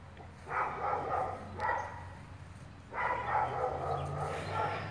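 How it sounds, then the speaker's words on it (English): Neighbourhood dogs barking somewhere outdoors beyond a garden, two moderately loud bursts of rapid barks separated by a quieter gap, carried over a steady low background hum. "Got a lot of dogs around here that like to bark."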